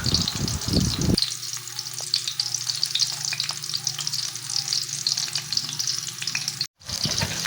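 Garlic and onion sauté in a hot pan, a steady close sizzle and crackle with a spoon stirring through it, briefly cutting out near the end before resuming.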